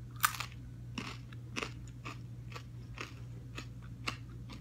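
Crispy oven-baked fries crunch between teeth in close, repeated bites and chews, a steady rhythm of crackling munches over a low hum with no talking.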